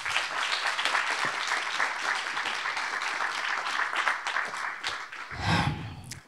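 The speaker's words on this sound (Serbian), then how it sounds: "molim jedan veliki aplauz za nju" An audience at a seminar talk breaks into sustained clapping that holds for several seconds, ending with a brief low thump.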